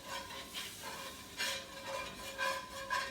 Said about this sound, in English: we're going to scrape up all of that fond.